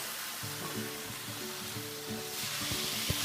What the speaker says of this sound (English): Continue to stir until your sauce is incorporated